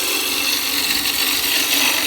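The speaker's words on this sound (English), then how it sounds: "Just using a spindle roughing gauge." A spindle roughing gouge cuts into spinning wood on a lathe while a trinket box is shaped, giving a continuous close scraping hiss with faint rhythmic chatter and no voices.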